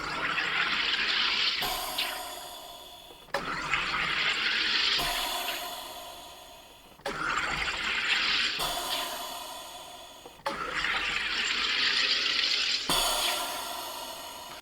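A Fika Carbonator Pro soda carbonator forces gas into water in repeated bursts of hissing and bubbling, each lasting a second or two with short pauses between, close and fairly loud.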